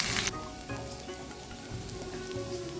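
Rice, lentils and green chilli fry in a pan for a vegetarian bhuna khichuri, giving a steady close sizzle throughout with a brief louder hiss at the start.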